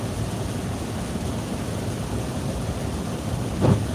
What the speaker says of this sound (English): it is raining over here